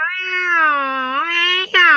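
A human voice imitates fighting cats, with one drawn-out, wavering yowl that rises and falls, briefly breaks off, then jumps back up loudly near the end.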